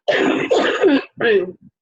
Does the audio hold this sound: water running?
no